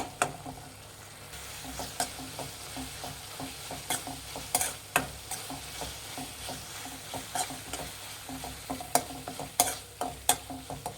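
A spoon stirs tomatoes softening for tomato gojju in a sizzling pan, making repeated close scraping clicks at an uneven rhythm over a constant low frying hiss.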